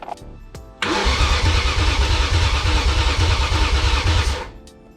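A BMW E39 M5 Wagon engine cranks briefly, catches and settles into a loud, steady idle close by, running for several seconds before cutting off abruptly.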